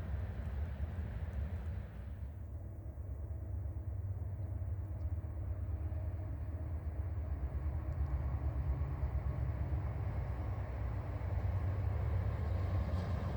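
A train rolls past outdoors among trees, giving a continuous low rumble and rail roar that holds steady and then swells slightly toward the end, with no voices.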